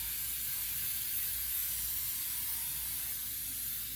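Baker's Joy baking spray hisses steadily from an aerosol can into a cake pan, a continuous close, even spray with no talking.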